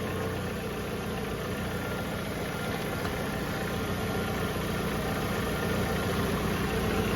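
A Chevy S10 truck engine idles steadily with a broad, even rumble and constant hiss, loud and close throughout with no change in pace; no voices.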